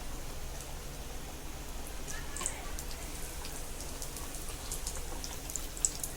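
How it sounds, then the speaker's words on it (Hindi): Potato and egg tikki frying on low heat in a pan, a steady soft sizzle with light crackles and occasional pops, continuous and fairly quiet throughout. "इसको हम स्लो आंच में फ्राई करेंगे और गोल्डन ब्राउन होने तक फ्राई करेंगे।"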